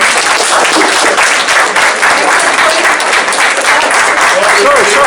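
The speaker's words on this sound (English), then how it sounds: "I'd like for the candidates, please thank your voters with a round of applause." A large audience at a candidates' forum claps in sustained, dense applause that stays loud and steady throughout, like a continuous roar of hands with no pause.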